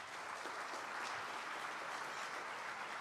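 A large audience at the AfriCaribbean Trade and Investment Forum during the Afreximbank Annual Meetings 2024 applauds Her Excellency, a dense, steady wash of clapping that holds at an even level for the whole stretch.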